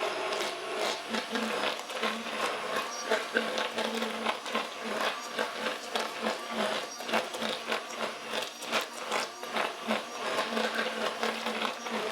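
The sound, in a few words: immersion stick blender blending cashew mixture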